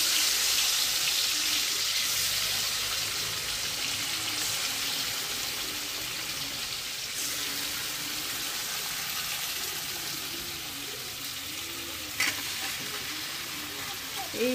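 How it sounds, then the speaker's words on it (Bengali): Marinated chicken legs fry in hot oil in a kadai with a loud, continuous close-up sizzle and occasional stirring scrapes, no voices over it. "কড়াইতে আমার এদিকে তেল গরম হয়ে গেছে আর আমার এদিকে চিকেন ম্যারিনেটও হয়ে গেছে, তো চলো এবার চিকেনটা বসিয়ে দিচ্ছি"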